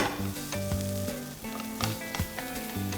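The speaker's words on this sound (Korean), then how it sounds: "재료들이 골고루 혼합이 잘 될 수 있도록 섞어주면서 볶아주세요." Shrimp and meat stir-fry in a hot pan as ingredients are mixed, giving a constant crackling sizzle with scraping stirs, under soft background music.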